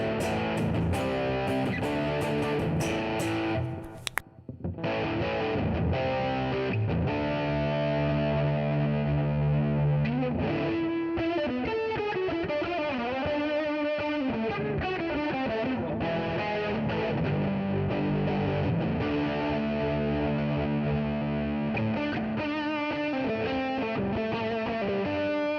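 An electric guitar played through a NUX Trident multi-effects pedal with reverb on rings out in distorted, sustained chords and lead runs, steady and loud throughout, with a short dropout near the start.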